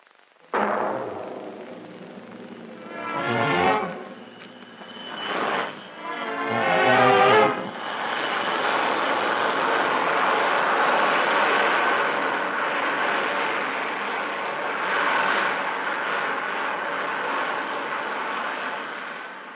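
An early jet engine from the Bell Aircraft jet program starts with rising and falling whines and surges, then settles into a continuous, broad roar that holds steady for many seconds.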